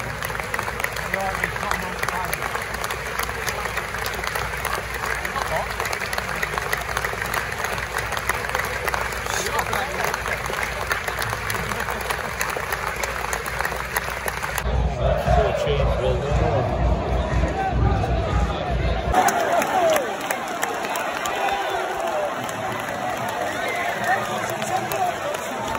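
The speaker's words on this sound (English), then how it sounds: "it's asked to hold a moment of applause to remember him" Football crowd at a York City versus Halifax Town match holding a moment of applause in memory of a former player, a long, steady wash of clapping and crowd noise that swells and shifts partway through.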